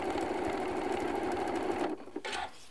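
A sewing machine stitches through three layers of fabric for a Christmas tree decoration, running in a steady fast whirr for about two seconds and then slowing into a few short bursts before stopping.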